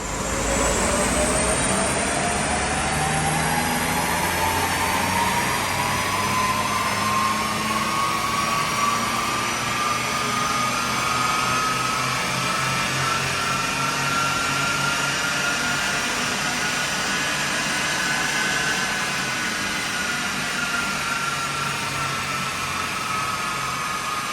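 Audi A3 1.6 TDI diesel on a dyno in stock form with the EGR and DPF removed, revving in one long continuous pull with a steadily rising engine note and loud roller and fan roar throughout.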